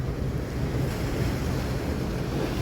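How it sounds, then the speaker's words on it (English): Strong ocean surf on a rocky shore with round stones, a steady loud wash of breaking waves mixed with heavy wind buffeting the microphone, continuous with no talking. "You can see how strong the waves get here."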